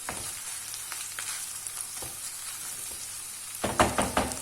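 Tomatoes frying for alinazik kebab, a soft steady sizzle with occasional stirring clatters that grow louder and busier near the end.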